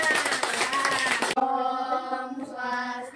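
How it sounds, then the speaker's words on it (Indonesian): A classroom of students claps together for a short burst, a dense patter of hands that stops abruptly, after which a tonal sound with clear harmonics carries on. "Kita kasih tepuk tangan semuanya."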